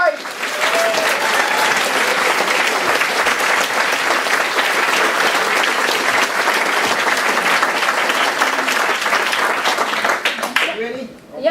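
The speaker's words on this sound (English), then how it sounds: "a welcoming round of applause for Elizabeth Wright" An audience at a Bettakultcha Leeds talk night applauds to welcome speaker Elizabeth Wright, a dense, sustained round of clapping that stays full for about ten seconds before tapering off at the end.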